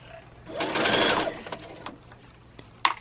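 A sewing machine stitches a fabric dust cover for a die cutter in a short close whirring burst, followed by quieter clicks and handling noises.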